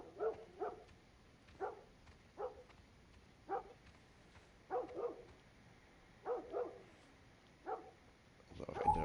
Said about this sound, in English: I'm gonna walk towards the dog and see what's happening over there.